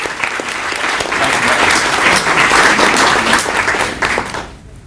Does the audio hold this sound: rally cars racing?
no